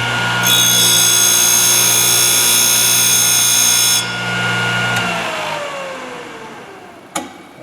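Thorvie AV-40 sharpening machine grinding a router bit, a loud, close high-pitched motor whine that holds steady, then cuts off and spins down slowly, followed by a sharp click near the end.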